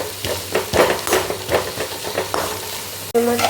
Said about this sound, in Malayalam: നമുക്കിനി ഉള്ളി ചേർക്കാം. ഫ്രൈ ചെയ്തെടുക്കാം കേട്ടോ.